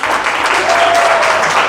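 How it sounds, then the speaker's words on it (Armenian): A studio audience breaks into dense, steady applause, close and loud throughout, at a televised surprise celebration of a mother's 60th birthday. "ծափերը ստուդիո։"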